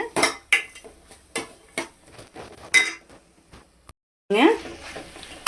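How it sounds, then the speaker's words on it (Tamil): Turkey berry (sundakkai) curry stirred in a cooking pot, with a series of scraping, clattering utensil strokes against the metal pot in bursts, closer and louder toward the end, a faint sizzle underneath. "நல்லா கலந்து விடுங்க. நல்லா கலந்திங்கன்னா சுண்டைக்காய் நல்லா அதுலேயே பாதி நல்லா வெந்து வரணுங்க."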